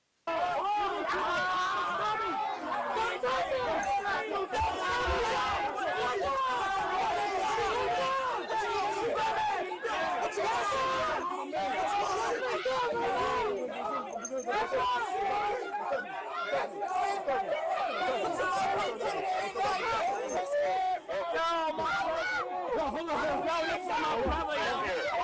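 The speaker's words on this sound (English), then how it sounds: "now the crowd's becoming violent." A large, agitated crowd gathered at an emergency scene where aid is being given, with dense overlapping shouting and chatter that stays loud and continuous throughout.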